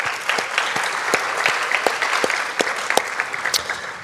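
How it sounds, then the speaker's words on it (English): Audience applause at a high school awards night, with distinct individual claps ringing out over a bed of steady clapping for a few seconds. "let's give her a round of applause"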